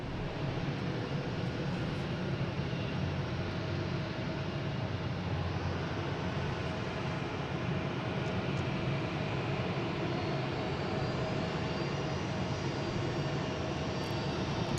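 Airliner engine drone at Boston Logan International Airport, a steady, even roar heard from some distance and held without a break, with no talking over it.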